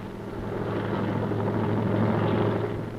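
A military helicopter airlifting troops in the 1971 India–Pakistan war drones steadily nearby, its deep rotor thrum and engine whine holding constant with no talking.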